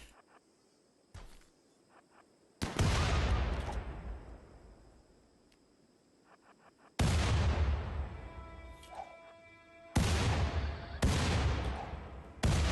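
Grenade blasts and gunfire from the colony-building video game RimWorld: several loud bursts with long decaying tails, the first isolated, the last two close together, separated by quiet background with faint insect-like chirps.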